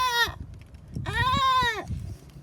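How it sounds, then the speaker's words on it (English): A goat bleats twice, a short cry followed by a longer wavering one, loud and close over a low background rumble. "you'll want to take one of those goats. The Yeti likes food with a bleat."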